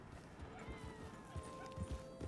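Horse hooves clip-clopping in the Red Dead Redemption 2 video game, an irregular series of soft, low thuds as the horse moves at a walk, heard alongside faint tonal game sounds at moderate level.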